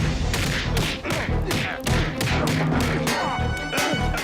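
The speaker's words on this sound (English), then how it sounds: "now it's going to be a big explosion at some point" Explosion from a Family Guy cartoon scene of a plane crashing into an oil rig, a dense roar of repeated booming bursts and crashing debris, loud and continuous throughout.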